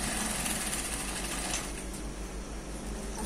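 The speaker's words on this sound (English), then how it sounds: "So let me just show you the sewing." A sewing machine stitches trousers with a loud, dense, steady mechanical whir and a fast rhythmic chatter of the needle that runs without pause.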